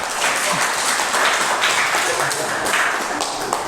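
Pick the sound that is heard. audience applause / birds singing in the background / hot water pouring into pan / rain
audience applause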